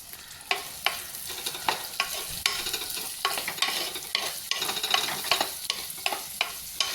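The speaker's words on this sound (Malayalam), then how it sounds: "കുറച്ച് ആവശ്യത്തിന് ഉപ്പിട്ട് അപ്പോൾ നല്ല നല്ലപോലെ മിക്സ് ചെയ്യാം" Bitter gourd being stirred with salt in a hot frying pan: steady sizzling with repeated scraping strokes of the spoon, close and fairly loud, no voices.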